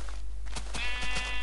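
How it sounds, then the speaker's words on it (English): A sheep bleats in Minecraft, a short synthetic bleat that rises over a steady low hum, with no talking. "Sheep there."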